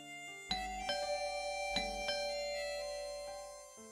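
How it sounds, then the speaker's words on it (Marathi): A doorbell chime rings out in two quick ding-dong pairs of bright, ringing tones. The tones decay slowly into quiet, with no voices. "बेल"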